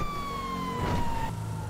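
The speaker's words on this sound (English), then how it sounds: "Oh no, I'm hearing sirens." A police siren in the video game GTA V wails steadily with a slowly falling pitch, sounding fairly near and loud over a low rumble of background noise.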